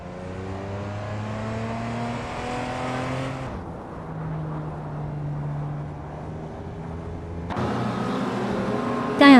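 Race cars in a video game, including a 1994 Ferrari F355 Berlinetta F1, roar with steady, rising engine tones that fade for a few seconds before a loud burst of revving returns, with no talking.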